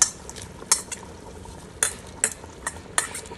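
Fried onions and chili powder are stirred into hot ghee for mutton nihari: a few sharp scrapes and taps of a spoon against the pot over a low hiss of frying, close by and without speech.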